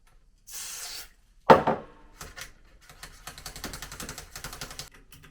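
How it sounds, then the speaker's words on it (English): Contact cleaner sprays into the controls of an Akai amplifier in a short hissing burst, then a sharper spray follows, then a run of clicking and rattling from the knobs being worked, close and alone. "So we're just gonna put some contact cleaner in these and hope that does the job."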